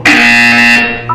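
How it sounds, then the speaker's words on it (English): A loud electronic buzzer sounds once in a Portal 2 test chamber, a strong steady harmonic drone that holds for most of a second and then cuts off. "You will hear a buzzer. When you hear the buzzer, look down at the floor."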